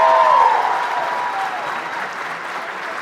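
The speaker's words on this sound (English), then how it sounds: "Please give them another round of applause." A banquet audience applauds with a dense, sustained wash of clapping that swells briefly and then holds steady, with a faint tonal whistle or cheer near the start.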